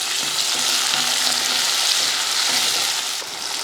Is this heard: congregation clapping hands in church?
no